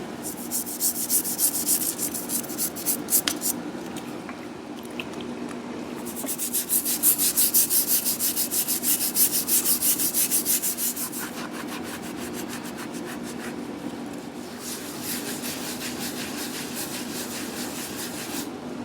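Small parts of a 1920s Prentiss vise are scrubbed clean with degreaser, giving a close, rhythmic brushing rasp in repeated strokes that swell and fade over a steady low hum.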